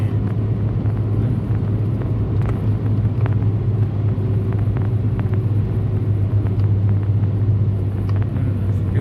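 Steady low rumble of a car rolling downhill along a road, constant engine and tire drone from inside the vehicle with no talking.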